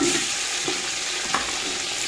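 Chicken frying with golden brown onions in a home kitchen pan, a steady close sizzle with faint stirring scrapes running throughout, no voices.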